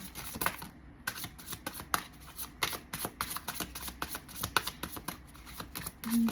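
Tarot cards being shuffled, a steady run of crisp riffling flutters and soft slaps repeating close by with no voices.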